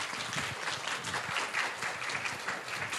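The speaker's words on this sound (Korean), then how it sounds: "김판석 처장님께 박수 부탁드립니다." Audience applause at an economic forum session in Korea, a continuous, fairly uniform patter of many hands clapping at moderate volume, steady for the whole stretch with no voices over it.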